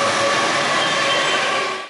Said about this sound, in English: Their house is sitting next to a train track,